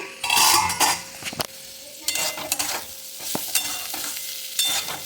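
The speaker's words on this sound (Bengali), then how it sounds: "এই যে আলু ভাজা বসিয়ে দিয়েছি" Potatoes frying in a pan on a home stove, loud close sizzling bursts with stirring and metal utensil clatter against the pan, no talk.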